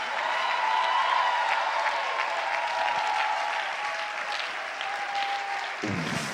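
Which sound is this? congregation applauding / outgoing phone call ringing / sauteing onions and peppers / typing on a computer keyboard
congregation applauding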